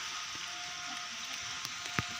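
Rain falls steadily as a soft, continuous hiss with a few brief louder drips and taps, faint and even throughout with no voices.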